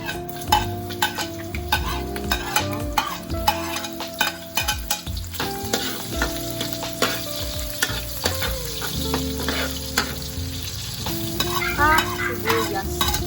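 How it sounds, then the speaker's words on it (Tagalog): Onions sautéing in a hot pan while cooking pancit habhab: a steady close sizzle and frying hiss, broken by repeated stirring scrapes and metal utensil clatter against the pan, with no one talking. "At ngayon po ay magigisa na po"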